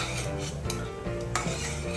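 Ghee-roasted dry fruits being transferred from a pan into a bowl, with quiet spoon scrapes and a couple of light metallic clinks over a steady low hum.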